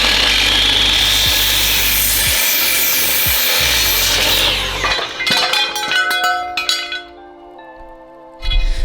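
Wood being sawn by hand for a homemade picnic table, a steady, loud rasping that runs for about five seconds before giving way to lighter clinks and rubbing of tools and boards.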